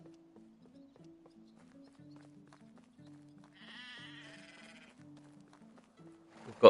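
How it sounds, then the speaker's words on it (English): Donkeys in the medieval village-building game Medieval Dynasty give a few brays and bleating calls over soft, rhythmic game music, with a louder burst at the very end. "we've got some donkeys"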